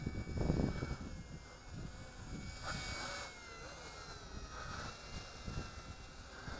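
Eachine E130 beginner toy helicopter with altitude hold, hovering and flying outdoors in a breeze; a steady high-pitched rotor and motor whine runs throughout with gusty wind noise and no talk.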